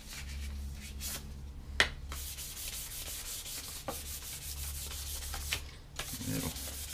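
A wooden spoon being sanded by hand with 600 grit sandpaper: soft, steady rubbing strokes close by, with a few sharp taps and handling clicks between passes and no talking.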